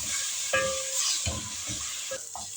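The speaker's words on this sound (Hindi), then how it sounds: "उसी पैन में मैंने थोड़ा सा ऑयल डाला था और चिकन को फ्राई कर लिया तेज़ आंच पर" Boneless chicken fries in a little oil in a pan over a high flame, a loud, bright, steady sizzle with a few utensil knocks and scrapes breaking through.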